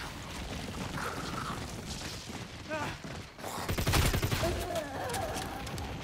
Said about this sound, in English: what are these explosions? Throw me off balance.